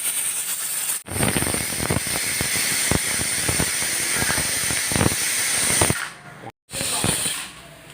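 A pressure cooker on a gas stove, used while cooking salty kandam curry with small onions and curry leaves, lets out a loud, sustained steam hiss. The hiss fills nearly the whole stretch, breaks off briefly twice and then resumes.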